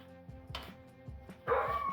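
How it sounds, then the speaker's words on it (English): A dog barks at its own reflection in a kitchen door, several short sharp barks at an even moderate distance, with the last burst louder and more sustained. "that's Tommy barking at his own reflection in the kitchen door"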